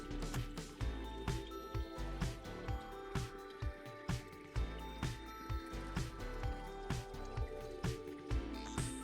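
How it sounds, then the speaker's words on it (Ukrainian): A small stream welling out from underground trickles and gurgles quietly close by, with soft irregular splashes and drips in a steady, faint flow. "Ромочок тече з-під землі."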